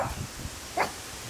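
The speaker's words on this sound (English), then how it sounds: "Why are you barking at a glove?" Indoors, a dog gives a few short, soft, muffled barks and a higher yip at a glove, heard close but fairly faint against a quiet background.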